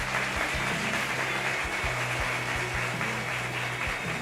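A church congregation applauds its reverend, a steady wash of many hands clapping at moderate level, with a low sustained organ or keyboard tone underneath throughout.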